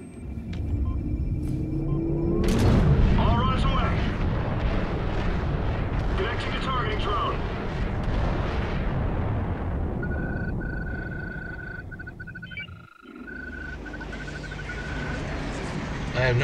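Heavy cannon fire and explosions from a gunship firing on targets in a video game, a loud continuous rumbling barrage with booming impacts, a tonal whine later, and voices talking over it.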